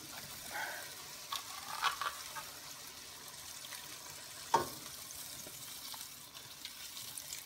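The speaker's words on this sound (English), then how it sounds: "Let's add our pineapple juice." Pineapple juice goes into a hot pan for fish escabeche, bringing a soft, continuous sizzle with a few brief splashes and one sharper clatter midway, fairly quiet and without speech.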